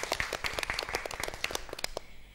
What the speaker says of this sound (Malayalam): ജഡ്ജസ് നല്ലൊരു കയ്യടി.